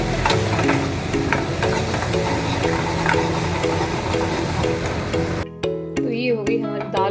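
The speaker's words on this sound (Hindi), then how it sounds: "दाल में तड़का लग गया" Dal tadka tempering sizzling and frying steadily in a pan for several seconds, a dense continuous crackle with light stirring, then cutting off abruptly into quieter kitchen sounds with a voice.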